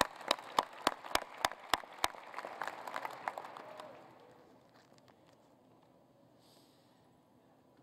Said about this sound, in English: another round of applause for Ms. Anderson.